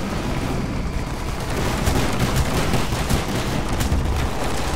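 Gunfire in the Call of Duty: Black Ops campaign, a continuous roar of rapid shots and rumbling blasts, loud and dense without pause and with no talk over it.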